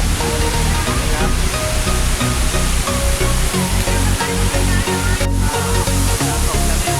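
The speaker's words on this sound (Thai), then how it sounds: "น้ำตกชั้นที่ 2นะครับ" The second tier of Erawan waterfall in Thailand during July cascades with a loud, constant roaring rush of falling water that fills the whole scene close up.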